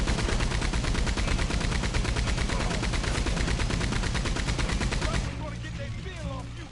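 Rapid, sustained gunfire in the Red Dead Online video game rattles loudly in dense repeated bursts for about five seconds, then cuts off into a quieter background with faint scattered sounds.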